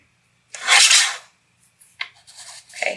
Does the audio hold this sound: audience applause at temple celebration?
no